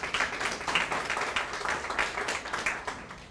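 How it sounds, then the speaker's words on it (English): A crowd at a neighborhood technology empowerment gathering claps for Dr. Burke, a steady patter of many hands that rises and dips gently over a few seconds without pause. "Please give Dr. Burke another round of applause."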